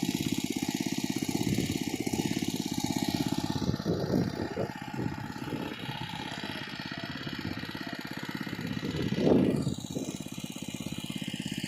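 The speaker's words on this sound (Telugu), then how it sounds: "చిన్న మోటార్ తెచ్చుకుని చూస్తున్నారు కదా నా బ్యాక్గ్రౌండ్లో మోటార్ అని" A small motor pumps water for a paddy field in a village, running as a steady, rough mechanical drone through the whole stretch, fairly close, with a louder surge near the end.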